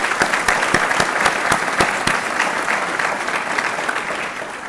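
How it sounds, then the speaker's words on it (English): Audience applause at a university college award ceremony, a dense sustained round of clapping with sharp individual claps standing out, steady and fairly loud throughout, no talk over it. "Let's give these folks a round of applause."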